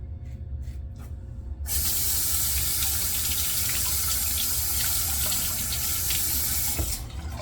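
Water rushes from a tap to rinse after a razor shave, starting abruptly after a few quiet seconds and then flowing in a loud, steady, close hiss until the end.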